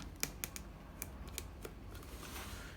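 Scissors or a blade snipping through the plastic top of a mushroom grow bag of spent coffee grounds, a few sharp close cuts spaced apart over a low indoor hum.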